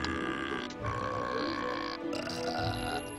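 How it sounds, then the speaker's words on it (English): A character belches in Fable 3 on an Xbox 360, a long, throaty burp rumbling low over game music, with a short break partway through before it carries on. "I belch at you all!"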